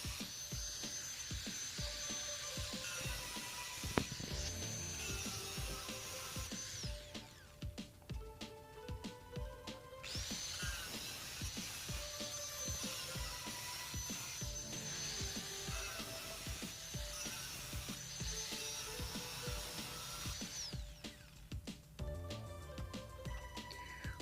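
Light steel hollow section is cut along a marked line, a faint, high buzzing cut that runs in long stretches with brief pauses between passes.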